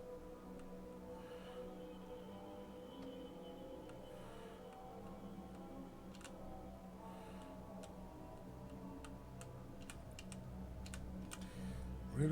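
Computer keyboard keys tapped during play of The Sinking City: faint, scattered clicks over a steady low game ambience, growing into a quicker cluster of taps near the end.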